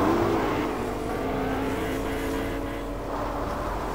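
Lamborghini engine droning in Fortnite, a steady mid-level motor hum with slight pitch shifts held for the whole stretch, with no clear voice over it.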